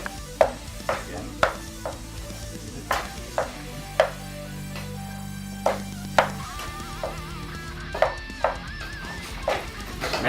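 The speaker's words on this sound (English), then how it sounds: "Put in the pan. We get everything in there. Mix it up." A spoon stirs ingredients in a cooking pan, making regular scraping strokes with sharp clicks roughly every half second, close and fairly loud over a faint sizzle.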